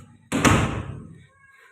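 A door in a room kept for Persian cats, opened as a cat dashes out, gives one sharp, close thump followed by a short fading rattle.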